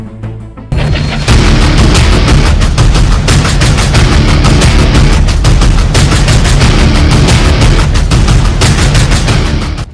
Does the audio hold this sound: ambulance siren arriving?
no